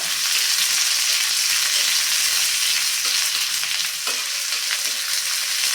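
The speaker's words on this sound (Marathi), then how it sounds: "हा जो आपण बारीक चिरून घेतलेला कांदा आहे ना हा कांदा घालायचा आणि हा कांदा पण छानपैकी आपल्याला परतून घ्यायचा आहे" Finely chopped onion sautés in hot oil for a tomato thecha, giving a loud, steady sizzle that holds without a break, with faint stirring scrapes now and then.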